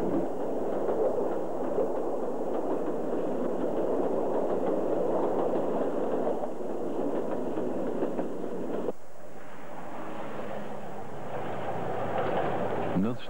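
Narrow-gauge train on the Trás-os-Montes line between Mirandela and Bragança, running with a steady rumbling, rattling roar throughout, the tone shifting about two-thirds through.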